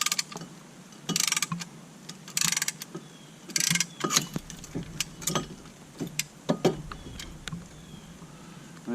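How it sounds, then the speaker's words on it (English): Sharp metallic ratcheting clicks from a brake caliper piston compressor tool being loosened on a Buick LeSabre, coming in short bursts and single clicks close by. "And you ratchet it to loosen it."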